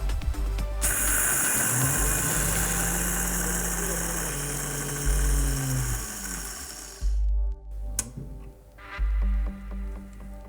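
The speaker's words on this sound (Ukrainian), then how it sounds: "Вмикаємо млин." SM series laboratory mill starts and runs with a loud, steady mechanical hum and whine that rises in pitch. It stops after about seven seconds, leaving low rumbles and handling knocks, and a voice speaks alongside.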